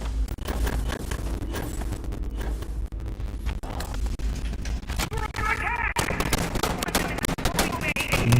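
Continuous rapid gunfire from the sci-fi video game Dune Awakening, bursts of shots close and loud over a constant background rumble and wind-like noise, with a player talking at times.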